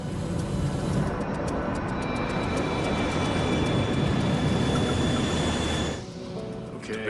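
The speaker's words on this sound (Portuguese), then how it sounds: "Os motores estão em velocidade de cruzeiro." United Airlines 232 airliner engines drone steadily at cruising speed inside the cabin, a loud continuous broadband roar with a faint high whine, dipping slightly near the end.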